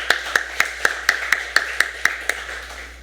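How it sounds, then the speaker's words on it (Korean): A church congregation claps in unison for the choir: about ten sharp, evenly spaced claps roughly a quarter second apart, crisp and moderately near, with a steady hum underneath and no voices. "우리 다윗성가대 그리고 우리 한유진 자매에게 다시 한번 박수 부탁드립니다"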